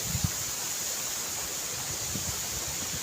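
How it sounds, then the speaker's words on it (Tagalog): Water from a mountain stream rushes in a steady, even broadband hiss, close and unbroken, with a few low knocks and splashes near the start. "agos ng tubig to galing sa bundok"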